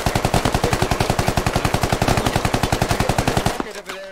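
Sustained automatic gunfire from the military shooter Squad, a rapid, evenly spaced burst of loud shots running about three and a half seconds before cutting off abruptly into a short, quieter tail.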